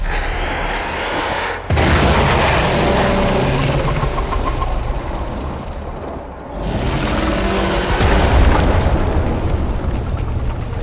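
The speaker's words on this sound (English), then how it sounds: "There should be useful detritus falling from the explosion." Explosions in the video game Warframe during the Heart of Deimos quest, loud booming blasts with sharp onsets followed by sustained roaring rumble and debris noise, dense and continuous throughout without speech.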